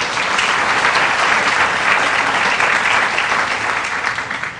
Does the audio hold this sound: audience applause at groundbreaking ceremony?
yes